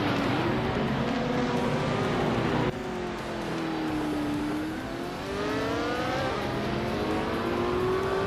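A Lola T70 Mark race car engine drones steadily in a GT racing video game, its pitch sliding up and down through gear changes, with a brief cut and a shift in tone partway through and no one speaking.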